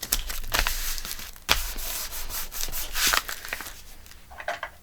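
Dry scraping and rubbing of paper being pressed down in a journal, in irregular close strokes with brief louder swipes, alone without talking.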